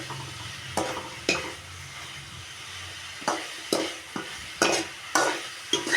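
Tomatoes sauté in a pan for tomato chutney, a soft steady sizzle broken by repeated scraping strokes of a spoon stirring, close and unaccompanied.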